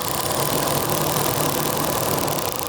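A motorcycle or car engine held at steady idle runs loud and constant with an even, low mechanical hum and faint knocking texture, close up and uninterrupted.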